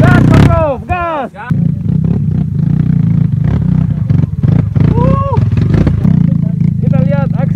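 A motorcycle engine drones steadily on an adventure ride, sitting under loud, excited talking throughout.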